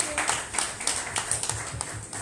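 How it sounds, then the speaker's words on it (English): Scattered audience clapping for Maggie Wilson at a launch event, individual claps distinct and uneven rather than a full roar, fairly close and moderately loud. "a round of applause to Maggie Wilson"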